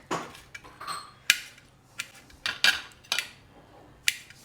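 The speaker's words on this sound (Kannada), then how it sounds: "ಮೆಣಸಿನ್ಕಾಯಿ ಕಟ್ ಮಾಡೋಣ ಚಿಕ್ಕ ಚಿಕ್ಕದಾಗಿ" A knife chops green chillies into small pieces on a board, about a dozen crisp, irregular taps and clicks close by, with brief pauses between strokes.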